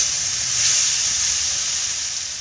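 A splash of water hitting frying spice masala of Kashmiri chilli, coriander, cumin and turmeric powders in a pan, giving a loud, steady sizzling hiss that swells briefly then holds under no voices.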